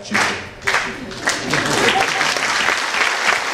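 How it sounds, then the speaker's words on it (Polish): An audience at a cabaret performance bursts into hearty applause, dense clapping that swells and holds steady, with a voice speaking over it. "Andrzej Piersa, wielkie brawa."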